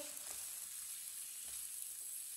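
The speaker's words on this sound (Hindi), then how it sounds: "सब्जियों को मैंने हाफ फ्राई कर ली है" Grated carrot, finely chopped green chillies and chopped tomato half-frying in a pan for an omelette give a steady, faint hiss of oil, with a few soft clicks and no voices.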